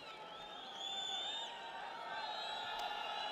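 An arena crowd at an MMA fight swells into cheering and whistles, a distant wash of voices rising under a commentator's speech.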